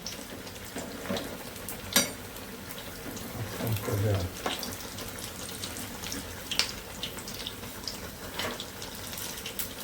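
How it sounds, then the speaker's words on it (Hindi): Chili bhajiya fry in hot oil and are turned over. A soft, steady sizzle continues throughout, with occasional clinks and splashes from flipping, and faint talk in the background. "ये मिर्ची तो जल्दी सिक जाती है तो फिर इसको मैं पलट रही हूँ।"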